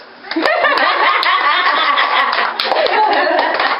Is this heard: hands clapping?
yes